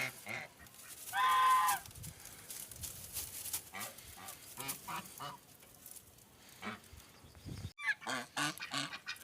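Geese and ducks on a muddy farmyard honk and quack repeatedly at moderate distance, with one louder honking burst standing out among scattered calls.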